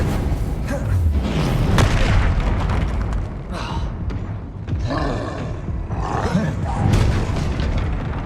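Fire and blast spells going off in a wizarding action game, a dense run of deep booming impacts and roaring bursts that keep coming without pause for several seconds, loud and close, over a busy game soundscape.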